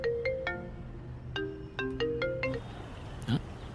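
A telephone ringtone plays a short melodic tune of bright, repeating electronic notes, fairly quiet against a low room background.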